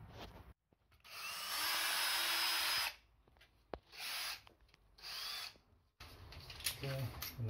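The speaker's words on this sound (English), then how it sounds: "I'm just going to drill a pilot through the other" A power drill whirs in several short bursts while drilling a pilot hole through wooden stud framing, the longest about two seconds, close up, with brief pauses and clicks between runs.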